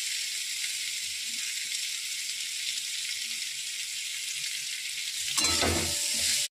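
Amla pickle with turmeric powder sizzles steadily in a pan, a close, even frying hiss that swells louder with a burst of stirring and scraping just before the end.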